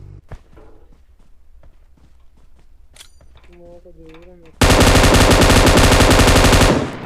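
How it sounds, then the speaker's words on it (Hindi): Sparse clicks and thuds lead into a sudden, loud sustained burst of rapid automatic gunfire in BGMI, likely from an M249, lasting a couple of seconds before cutting off. "हमारे ऊपर गोलियां चलती हुई"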